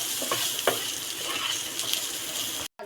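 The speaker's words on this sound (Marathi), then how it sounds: "तेलावर आपण खोबरं भाजून घेणार आहोत" Grated coconut roasting in a spoonful of oil for a prawn gravy masala, a dense, even sizzle with a few spatula scrapes, cutting off briefly near the end.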